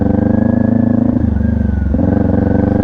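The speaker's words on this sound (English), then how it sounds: "So I'm going to squeeze my clutch out as I throttle." Motorcycle engine idling and labouring as the rider slowly lets the clutch out and gently throttles, a steady close-up mechanical drone that dips briefly mid-way before the revs pick back up, with no talking.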